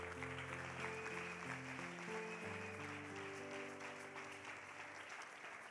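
A church congregation applauds loudly for the children, a dense, steady wash of clapping that holds for several seconds, with sustained organ or keyboard chords playing underneath.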